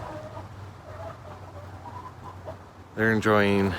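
Quiet outdoor ambience gives way to a loud, harmonic burst of chicken vocalizing near the end, close and sudden.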